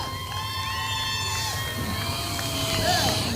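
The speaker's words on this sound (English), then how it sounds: "Fans, as he climbs out of the car, give him a round of applause." Race fans at a dirt-track raceway, US 36 Raceway in Osborne, Missouri, applauding as a driver climbs out of his car; a steady crowd wash with scattered cheers and whistles, voices mixed in throughout.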